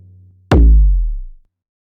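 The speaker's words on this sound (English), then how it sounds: "toms" A sampled tom drum struck once, deep and booming, its low resonant body ringing out and fading over about a second, loud and close, preceded by a faint low hum and no voices.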